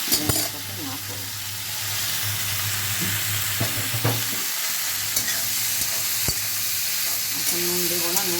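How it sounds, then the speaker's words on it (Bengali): Salted bitter gourd (karela) frying in a pan as its released water sizzles and steams, with a loud continuous hiss and occasional stirring scrapes and clanks. "নুন মাখানোর পর যে জলটা বেরিয়েছে সেটা বাটিতেই ফুটে যাবে"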